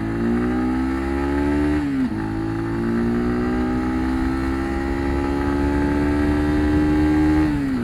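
A SYM NH T 300 single-cylinder motorcycle engine drones loudly and steadily climbing uphill, pitch rising slowly under load, with a brief dip as it shifts gear partway through.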